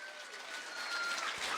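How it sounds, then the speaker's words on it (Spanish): Applause fills a church congregation during a service, a steady dense wash of clapping from a crowd, moderately loud throughout the short stretch. "Fuerte aplausos"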